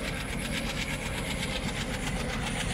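Simulated train rolling into Nagpur station on the Central Railway route in Train Simulator, a steady, loud broadband rumble with faint rhythmic clatter running continuously throughout, no voices.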